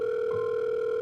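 An office telephone handset is lifted, followed by a steady, faint dial tone that hums on evenly and alone.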